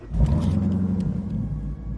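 A Dodge Durango Hellcat's engine fires and settles into a deep, loud, rumbling idle close up inside the cabin, with a roaring low growl throughout.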